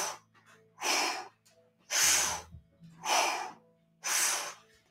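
Deep, forceful breathing during a kundalini yoga session, four strong breaths in a steady rhythm about one per second, loud and close with short pauses between and no speech.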